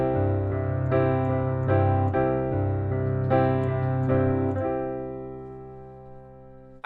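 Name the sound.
piano playing pop chord rhythm pattern 8 in 6/8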